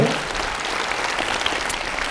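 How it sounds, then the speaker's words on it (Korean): Lecture hall students at Dong Seoul University burst into applause during a special talk, a thick, continuous roar of clapping that starts strong and holds steady throughout. "없으면 박수 한번 쳐줘요."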